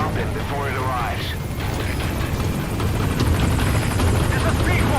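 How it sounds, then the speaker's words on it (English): A helicopter arrives in the video game Metal Gear Solid 5: The Phantom Pain. A loud, steady rotor drone runs throughout, with voices talking over it. "Arriving I'll send the chopper."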